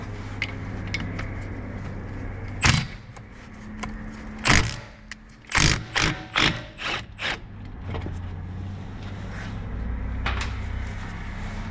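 An impact wrench with a 12 millimeter socket working on Honda Civic front brakes, heard as several sharp rattling bursts, one short, then a quick cluster of four or five, over a low background hum.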